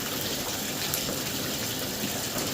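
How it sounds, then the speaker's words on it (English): Cold water gushes through a newly plumbed home shower, a loud, steady, broadband rush with no breaks, close by and alone. "turn on a little bit of water. We're just gonna run it on cold for a while"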